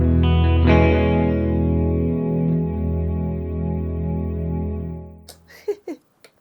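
Sustained guitar chords wash through an Alexander Space Force reverb pedal, a long shimmering tail decaying over several seconds before a few quiet clicks and taps end it.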